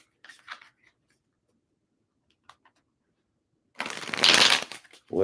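Tarot cards being shuffled, a few faint taps and rustles followed by one loud riffling burst near the end, close and without talk.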